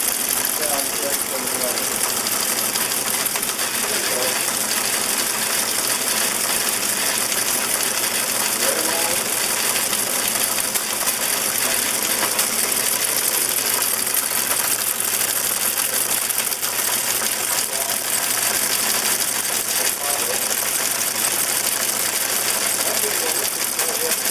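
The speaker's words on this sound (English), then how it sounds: "this one printer that's running over there now" A vintage teletype printer runs in a telephone museum in Seattle, giving a dense, steady mechanical clatter of rapid ticking and whirring that continues for the whole stretch, with faint voices in the background.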